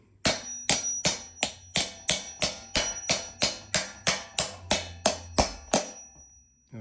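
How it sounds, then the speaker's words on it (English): A 13/16 socket tapped with a hammer onto a pushnut cap on a dolly handcart wheel gives about fifteen sharp metallic knocks at a steady, even rhythm, close and loud, with no talking. "I have this 13/16 socket. I'm gonna just put this over here and tap it."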